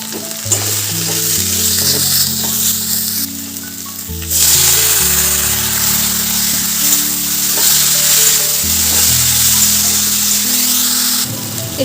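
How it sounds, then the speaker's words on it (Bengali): Drumsticks sautéing with turmeric, salt and sugar sizzle steadily with a loud, continuous hiss, while a low, stepping musical bass line runs underneath throughout. "দিয়ে দিচ্ছি হলুদ গুঁড়ো, অল্প নুন, চিনি দিয়ে ভালো করে কষে নেব"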